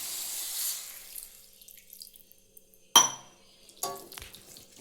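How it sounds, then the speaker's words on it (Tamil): A tumbler of water poured into chicken curry in a pan, a sudden splash and gush near three seconds followed by a second pouring burst, with faint sizzle and clatter around it, no talking. "அதுக்கப்புறம் ஒரு டம்ளர் தண்ணி ஊற்ற போகிறோம்."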